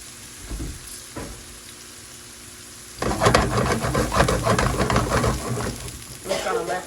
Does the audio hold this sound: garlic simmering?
yes